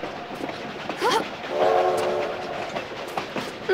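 A train in the video game Tomb Raider: The Last Revelation rumbles along with a sustained low droning tone, scattered metallic clanks and squeals, and a louder surge near the end.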